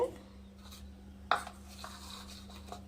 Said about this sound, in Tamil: இப்போ நாம் ஒரு ஸ்கூப் எடுத்து அப்படியே ஐஸ்கிரீமை கட் பண்ணி எடுத்து